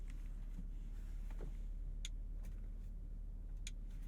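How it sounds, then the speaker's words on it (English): A 2022 Audi RS5 Sportback's twin-turbo V6 idles just after start-up, giving a steady low rumble that holds throughout, with a few faint clicks from the cabin above it. "Little rumble from that twin turbo V6."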